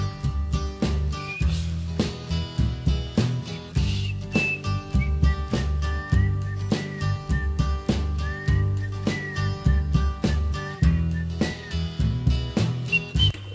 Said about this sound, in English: his first take on the whistling didn't really go down too well.